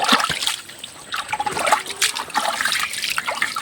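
Water trickles and splashes nearby as it is being collected, a steady irregular dribble with small splatters and no talking.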